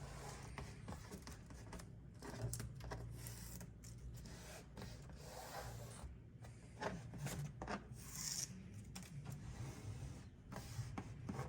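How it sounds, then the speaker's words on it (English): AVS Aeroskin LightShield protective film being peeled back and pressed down by hand, soft close rubbing and rasping scrapes with intermittent crackly bursts, quiet and without talk. "And we'll start to peel that."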